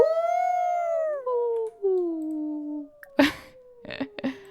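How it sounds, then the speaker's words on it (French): A normal werewolf howl from the Werewolf video game: one long, wavering, descending howl that tapers off, followed by a few short, sharp snorting bursts, loud and close with no talk. "Écoutez le hurlement normal comme il est débile."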